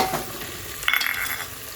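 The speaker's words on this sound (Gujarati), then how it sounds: "હવે કોબી પણ એમાં નાખી દઈએ છે." Cabbage is added to a hot pan of mixed vegetables, cashews and spice mix while cooking khichdi. A soft sizzle comes with a brief clatter of stirring and a clink of utensil against the pan, and no one speaks.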